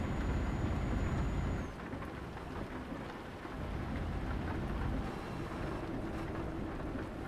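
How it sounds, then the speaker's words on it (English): Steady heavy rain with low rolling thunder in Euro Truck Simulator 2, heard from inside a truck cab while driving a long career run; a dense continuous downpour with a deep rumble swelling near the start and fading, no voices. "Hopefully when we rest, this rain will fuck off."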